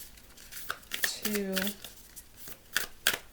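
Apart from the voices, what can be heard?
shuffling tarot cards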